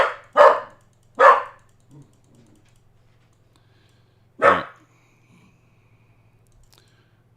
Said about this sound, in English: Max is over there barking like crazy.